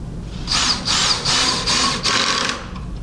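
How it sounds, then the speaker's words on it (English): A power drill drives screws into a wooden cabinet face frame at a slight angle, running in four or five steady bursts of whirring, each about half a second, close and loud with short pauses between. "take the screws out, adjust it, drive the screws back in"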